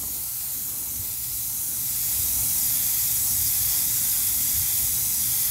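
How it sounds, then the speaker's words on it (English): Black spray paint hisses steadily from a can onto a crankbait fishing lure, a continuous airy spray that swells slightly louder partway through, with no talking. "I'm gonna kind of spray some of that black so it angles down on there, merges kind of into that purple."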